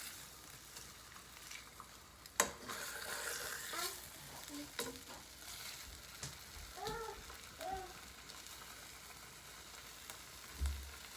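A quiet, steady sizzle of fish frying in a pan, broken by a few clinks and scraping sounds and soft movements nearby.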